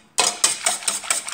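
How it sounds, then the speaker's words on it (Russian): A hand-cranked mechanical whisk beating pancake batter with eggs and soured milk, a rhythmic series of close scraping, whirring pulses repeating about every quarter second. "Взбиваю механически"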